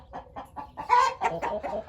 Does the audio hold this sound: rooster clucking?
yes